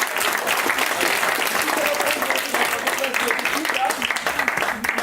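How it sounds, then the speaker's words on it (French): Sustained audience applause fills a seminar room at an integration event, dense and steady throughout, with scattered voices and faint speech mixed into the clapping. "Vous pouvez les applaudir bien fort."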